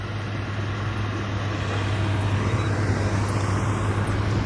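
A truck grinds slowly up a steep climb, its engine a steady low drone that holds throughout with road rumble around it, fairly close and continuous.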